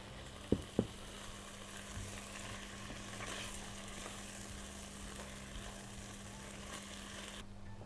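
Mushrooms sizzle and fry steadily in a pan for Armenian mushroom-and-cheese toasts, a continuous close crackle with two sharp clicks near the start.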